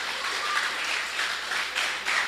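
Church congregation applauding at a Portuguese-language service, a steady broadband wash of clapping with a few swells, no talk over it.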